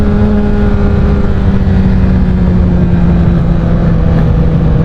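A Honda CBR1000RR sport motorcycle engine runs loud and steady at high revs with a constant droning tone and rushing road noise, heard close without pauses.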